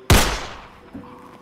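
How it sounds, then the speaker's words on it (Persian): A single sharp gunshot sound effect sounds during a mafia game show. It is loud and close, with a decaying tail and a faint thud shortly after. "شلیک اتفاق افتاد اما چیزی در پی نداشت"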